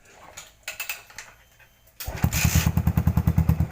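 A 2014 Yamaha SR400 motorcycle engine with a Super Trapp exhaust runs with a steady, rapid thumping beat that grows louder after a quieter start with scattered knocks.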